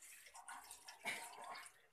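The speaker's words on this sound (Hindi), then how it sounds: "कढ़ाई पे पानी डालेंगे" Water poured into a kadhai wok on a gas stove burning at high flame, a faint, short, steady splashing rush with no talk.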